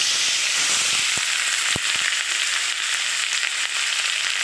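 A paste of ground onion and green chilli fries in a hot pan with steady, dense sizzling, close and loud, with a few faint clinks of stirring underneath.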